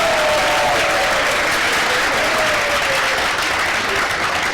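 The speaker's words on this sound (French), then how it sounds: "Oh, est-ce qu'on peut l'applaudir?" Steady studio audience applause on a French-language TV talk show, continuous and fairly loud throughout, with a faint voice or whoop drifting over the clapping.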